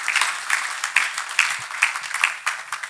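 Church congregation clapping in a steady rhythmic beat, a loud run of sharp claps repeating roughly every half second, close and full, with no talk over it.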